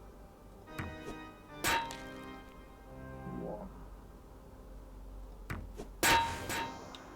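Sharp metallic clanging impacts, a pair early and another pair near the end, each ringing briefly over quiet game sounds; a voice says a single word.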